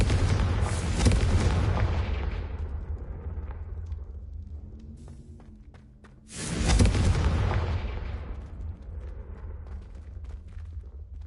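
Two big booming blasts from a Confringo fire spell in the Hogwarts video game, each a loud, broad roar that slowly rumbles away, the second hitting about six seconds after the first, with no speech.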